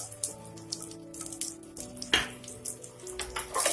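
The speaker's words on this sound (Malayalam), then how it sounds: "ഇതൊന്ന് ഫ്രൈ ചെയ്തെടുക്കണം" Chopped garlic frying in a pan for a spicy chana mix, crackling and sizzling close up with clinks of stirring and tonal hum from the kitchen behind.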